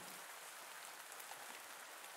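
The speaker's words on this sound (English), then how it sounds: "Is the rain going to stop?" Steady rain falling in the farming video game Pumpkin Days, a soft even hiss that stays constant throughout with no talking over it.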